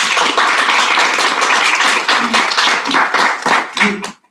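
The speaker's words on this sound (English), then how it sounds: "I hope you heard the clap for you" An audience at a state conference workshop claps in warm welcome for a panelist, with steady dense applause close and loud for several seconds before tapering off.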